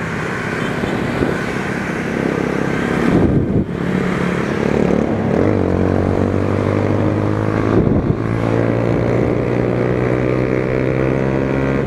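A new Honda Hornet motorcycle engine accelerates, its loud, steady buzz climbing in pitch, dropping at two gear shifts, then climbing again, heard close from the rider amid wind noise.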